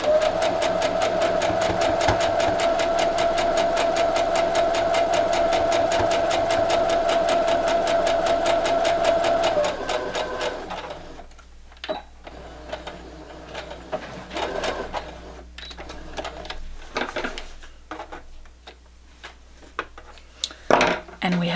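A sewing machine stitches quilt rows at a quarter-inch seam, running close and steady with a rapid, even whir for about ten seconds. It then stops, leaving quiet handling noises and fabric rustles.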